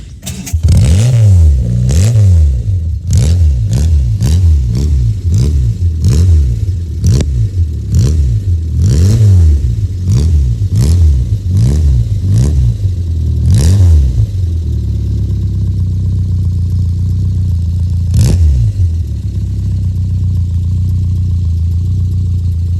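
A small Sipani Dolphin car engine is blipped repeatedly, loud rhythmic revs rising and falling about a dozen times up close, then settling into a steady idle and driving away with one last rev.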